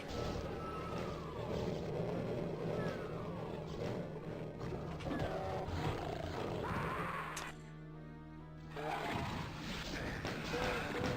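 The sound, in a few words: pinky demons roaring in Doom video game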